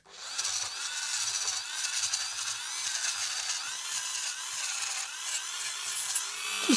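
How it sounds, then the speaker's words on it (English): A Dremel spinning a small brush polishes brass sockets on a Nordmende Rigoletto 59 radio chassis, giving a steady high-pitched whirring buzz that runs close and unbroken the whole time, with no talking. "what I like to do is just use a little brush on the Dremel"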